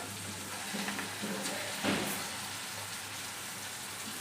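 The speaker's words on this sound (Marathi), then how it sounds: "छान अशी छोटी छोटी मुगाची भजी घालून घ्यायची आहे" Small moong dal bhaji dropped into hot oil, fried with no soda in the batter, giving a steady broadband sizzle with a brief louder bubbling burst midway; no voices.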